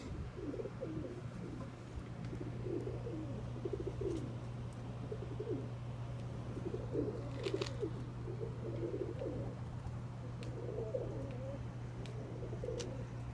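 Pigeons coo steadily in a small backyard breeding coop, several birds overlapping in soft, repeated rolling calls close by, over a constant low hum with faint distant chirps.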